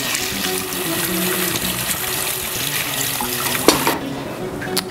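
Tap water pours steadily over apples in a sink, a continuous rushing stream with small knocks near the end as the flow is shut off.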